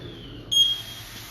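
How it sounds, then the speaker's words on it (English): A smoke detector sounds a single short, high electronic beep once, brief and clear against a quiet background. "Let me get my smoke detector to work."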